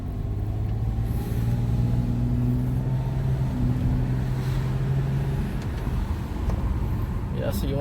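A 2009 Mazda Tribute rolling through traffic, a steady low engine and road drone filling the cabin, with a broad hum rising and easing as the SUV moves.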